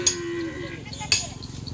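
Cattle at a Madura bull race practice track in Pamekasan give a drawn-out low moo, followed by a sharp clank of a cowbell and continued animal noise nearby.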